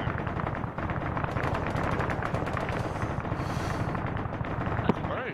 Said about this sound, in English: That's big for gunfire.